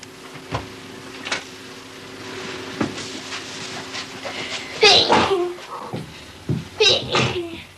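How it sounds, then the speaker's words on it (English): Several sneezes break through a quiet room with a low hum, loud and close, one strong sneeze midway and more near the end. "she's been sneezing twice a minute for 10 months"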